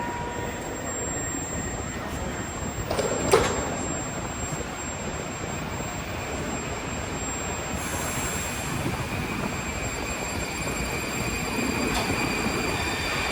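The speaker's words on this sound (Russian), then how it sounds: "Вот как раз и мой поезд." A Moscow metro train at Elektrozavodskaya station produces a steady, loud rumble of rolling carriages and wheels on rail, with a brief screech near the start and a swell as the train moves through the platform.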